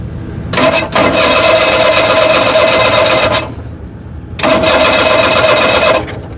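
An abandoned police car's engine, run on its carburetor, cranks and catches, runs loud and steady for about three seconds, drops away, then starts and runs again.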